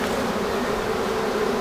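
Honeybees swarm around a ventilated hive entrance on a farm, their buzzing a steady, close, unbroken drone with no voices.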